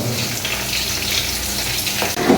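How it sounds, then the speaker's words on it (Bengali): Food frying in mustard oil crackles and sizzles loudly and up close, with a continuous dense hiss, a short break near the end, then a burst of spattering. "ভাজবো একটু তেলে সরিষার তেলে ভাজা হবে"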